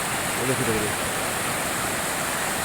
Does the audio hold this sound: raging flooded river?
yes